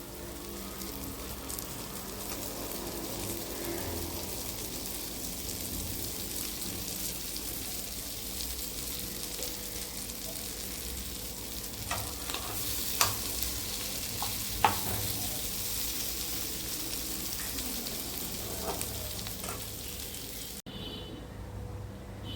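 Dried fish (karuvadu) fries in oil with a steady, dense sizzle and crackle throughout, a few sharper pops rising near the end, and no voices.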